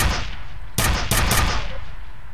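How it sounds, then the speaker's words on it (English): Nail gun from the shooter game F.E.A.R. firing two loud, sharp bursts of rapid shots close by, with a dull ambient rumble filling the gaps before and after. "I think this is a nail gun."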